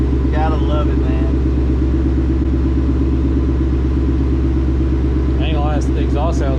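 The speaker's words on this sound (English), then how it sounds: "the exhaust sounds good on it too" A supercharged 2019 Ford Mustang GT with a VMP blower idles nearby, its engine and exhaust giving a steady, deep, throbbing rumble while several people talk over it.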